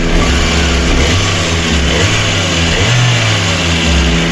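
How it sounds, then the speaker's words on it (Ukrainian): A fully warmed-up 1.6-litre VAZ 1118 engine running on gas idles steadily at close range, a low even hum with a cooling fan whirring on top, constant throughout with no talk. "Двигун повністю прогрітий, вентилятор включився. Так він у нас працює."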